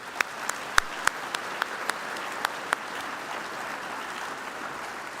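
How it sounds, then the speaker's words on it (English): Applause from a breakfast event audience honoring the organizing teams, a steady wash of clapping with several sharper individual claps standing out, moderately loud and continuous. "Let's give them all another round of applause."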